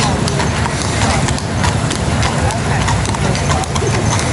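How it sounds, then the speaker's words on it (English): Horses clip-clop past in Central Park at night, a loud, close, continuous patter of hoofbeats on pavement with a person talking over the steps. "Couple of horses going by"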